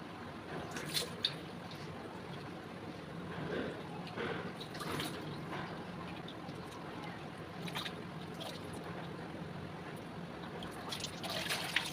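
A face coated in a multani mitti pack is rinsed by hand with water, giving soft, faint splashing, trickling and squishing sounds in repeated bursts, close by and fairly quiet.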